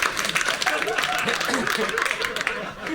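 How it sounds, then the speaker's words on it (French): Audience applause at a French stand-up comedy show, dense continuous clapping and crowd noise mixed with laughter, steady and loud throughout. "Arrêtez d'applaudir pour de la merde"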